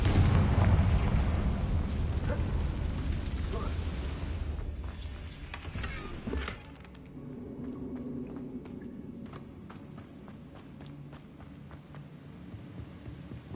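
Explosive Bombarda and Confringo spells detonate in Hogwarts Legacy, a heavy booming roar that fades after a few seconds into quieter crackling debris and scattered taps.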